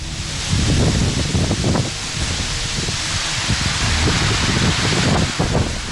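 Strong, steady cyclone wind roars through trees in Ratnagiri, with leaves and branches rustling and thrashing in gusts, close and loud throughout.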